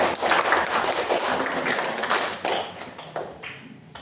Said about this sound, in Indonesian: Berikan aplaus ya pada anak kita